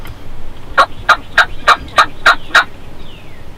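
Wild turkey gobblers sound off during a Kentucky spring hunt in 2019, a rapid run of seven sharp, evenly spaced gobbling notes ringing out clearly from close range.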